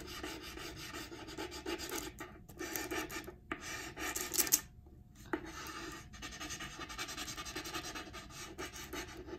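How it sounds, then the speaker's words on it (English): Graphite stick rubbed firmly across the back of a paper cartoon drawing, giving a steady dry rasping scrape in close strokes with a couple of brief pauses. "use the graphite stick to rub over all the lines that you've drawn in the interior"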